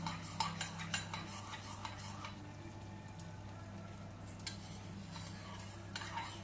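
Vegetable bread batter with tomatoes is stirred in a bowl, with a utensil scraping and clinking against the sides in irregular bursts over a low steady background hum.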